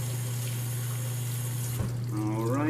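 Wild edible plants are rinsed under a kitchen tap: water pours in a steady, close rush, and a brief higher whine rises near the end.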